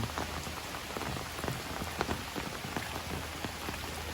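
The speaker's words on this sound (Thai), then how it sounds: "ฝนตกอีกแล้ว" Steady rain falls on a surface during a stormy outing to check fish traps in flooded water, with dense drops pattering continuously and a few louder nearby splats standing out.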